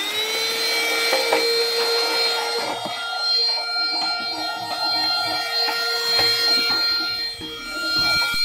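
Vacuum cleaner running steadily, used to clean an electric scooter (GT X11pro), a continuous whining motor drone with harmonic tones and occasional scraping or rubbing noises as the nozzle moves over the surface, close and fairly loud throughout.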